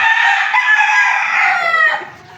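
A backyard-bred rooster crows once in a long, loud, close call that holds steady before tapering off at the end, with no talk over it.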